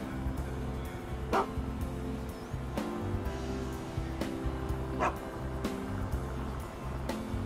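Dog barks in the GTA 5 video game from a husky pulling a surfboard-based modded vehicle, a few sharp barks spaced out over a steady layered game soundtrack, with no speech.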